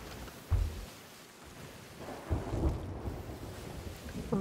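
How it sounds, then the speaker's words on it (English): A thunderstorm with rain in a video game, where low rumbles of thunder swell twice over a constant wash of rain and wind, faint and distant. "Right into the storm."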